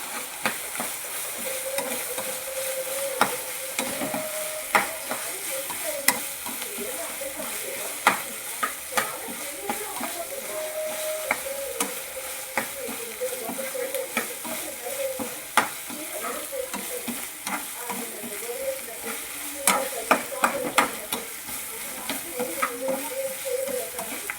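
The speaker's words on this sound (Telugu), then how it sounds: "టమాటా బాగా మెత్తగా ఉడకాలి ముక్కల ముక్కలు వేసేయాలి ఇలాగ ఇలా కలుపుకోవాలి" Tomato pieces cooking soft in a pan for a mutton curry are stirred continuously, a close sizzle broken by frequent clinking scrapes of the spoon against the pan, with no talk over it.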